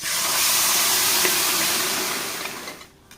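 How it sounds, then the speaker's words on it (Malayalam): Pre-cooked beef poured into frying spice masala in a pan, sizzling as a loud, steady broadband hiss that fades toward the end. "ഇനി നമുക്ക് നേരത്തെ വേവിച്ച് വെച്ചിട്ടുള്ള ബീഫ് ഇതിലേക്ക് ഒഴിച്ചു കൊടുക്കുക"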